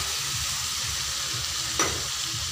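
Mustard paste thinned with water is stirred in a pan for a leafy spinach dish, making a soft, steady sizzle. A scraping swirl of the spoon briefly stands out near the end.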